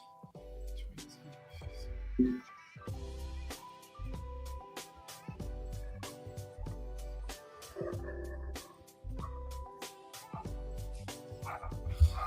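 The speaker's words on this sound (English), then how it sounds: "We've got such a sassy dog in the office." A sassy dog barks in an office, with repeated sharp barks and occasional whimpers scattered through a busy background of other sounds.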